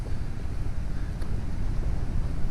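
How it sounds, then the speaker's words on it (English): Strong wind gusts outdoors at night behind a truck, buffeting the microphone with a steady, loud low rumble and no other sound. "It's pretty windy out here."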